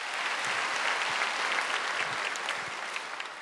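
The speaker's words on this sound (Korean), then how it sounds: "박수 좀 쳐줘. 더." A church congregation at a Wednesday worship service breaks into warm, continuous applause to welcome a former evangelist, a steady roomful of clapping with no break.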